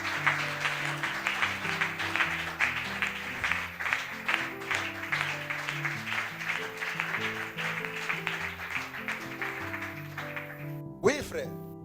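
A church congregation applauds and cheers in acclaim of God, a dense, sustained wash of clapping over music and voices for about ten seconds before it cuts off abruptly.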